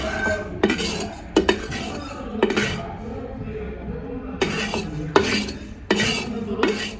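Roasted chana dal is scraped and stirred out of a pan with a metal spoon, giving repeated scrapes and clinks in short bursts, close and moderately loud, with pauses between strokes.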